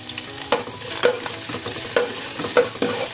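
Ginger and garlic fry in vegetable oil in a pan, a low sizzle broken by several sharp scraping stirs at irregular intervals, close and clear with no talk.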